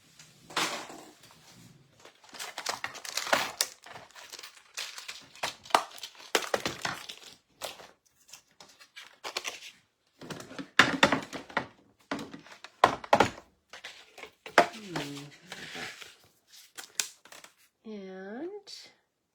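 Scissors cut a paper background piece for a beach-scene craft: a run of crisp snipping and crunching strokes in irregular bursts over about twenty seconds, close to the mic, with a few brief vocal sounds near the end.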